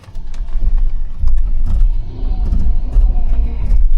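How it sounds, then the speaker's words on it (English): A Tata Sierra EV electric AWD SUV crawls over off-road obstacles, giving steady low-end mechanical rumble with intermittent clunks and scraping from braking and traction control, loud and close throughout with no talk. "Noises that you hear are from the braking and traction control."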